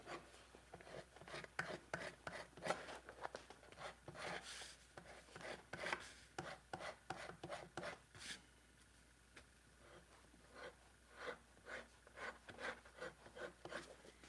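Someone scrapes repeatedly in a cold workshop, producing quick rasping strokes in uneven bursts, close and fairly quiet, with a short pause before the strokes resume.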